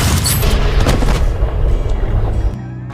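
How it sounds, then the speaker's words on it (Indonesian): Gunfire from a western film scene, a cowboy shooting an outlaw's henchman, heard as loud, dense booming blasts that fill the whole stretch before cutting off abruptly near the end. "akhirnya Henry berhasil menembak anak buah Christopher dan menyelamatkan Sheriff Gabriel dari kematian"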